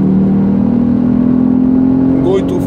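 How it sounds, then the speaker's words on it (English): A Lexus IS250 engine hums steadily while the driver shifts gears with the paddles, a close, loud, even drone with a brief pitch change near the end. "You guys are gonna hear the engine."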